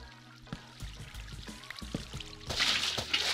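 Flowing water in the game Minecraft, a soft continuous pouring trickle that builds louder and hissier toward the end, heard close alone with some faint background game tones.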